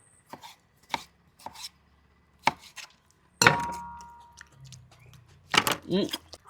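A kitchen knife cuts through a tomato on a board with a handful of sharp, close chops at uneven intervals, one ringing a little longer, in a quiet kitchen.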